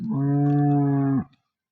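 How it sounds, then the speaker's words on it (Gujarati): A cow lets out one long, loud, steady moo close by, cutting off abruptly into silence. "આજે ચાર ગાયો હાજરમાં છે"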